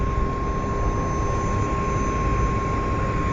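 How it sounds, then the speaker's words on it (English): An aircraft at Glasgow Airport produces a steady broadband engine roar with a constant high whine, loud and continuous with no talking. "Maybe it's another aircraft turning on, possibly."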